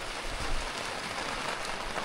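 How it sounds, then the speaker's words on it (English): Steady rain falls on an off-grid homestead during winter preparations, a dense, even hiss with a low rumble beneath it and no voices. "Well, rain's coming down."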